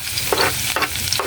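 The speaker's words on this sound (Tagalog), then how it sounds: "mag-start na po tayong maggisa ng bawang" Garlic sautéing in hot oil, a steady close sizzle broken by a few short scraping strokes of a stirring utensil.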